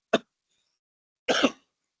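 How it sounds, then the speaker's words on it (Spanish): A single person with a lingering cough, speaking Spanish in an online meeting, gives a short sharp cough and then, about a second later, a longer throaty cough, both close to the microphone with silence around them. "Perdón que todavía estoy con un poquito de tos."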